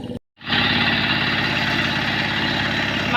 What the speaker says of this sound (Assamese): ল'ৰাটোৱে পথাৰত ট্ৰেক্টৰ হাল বাই আছে